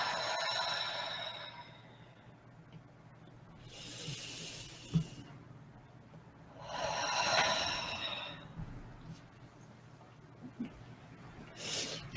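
Slow breathing exercise with long, audible breaths: three or four drawn-out airy hisses spaced a few seconds apart, close and soft, separated by quiet pauses.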